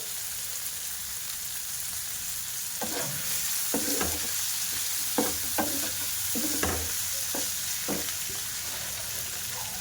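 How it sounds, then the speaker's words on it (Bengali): Capsicum, tomato, peas and other vegetables sauté in a pan for spicy vermicelli, a steady soft sizzle broken by repeated scraping strokes of a spoon stirring, close and fairly quiet with no talking. "দিয়ে সব ভালো করে কষিয়ে নেব সবজিগুলো।"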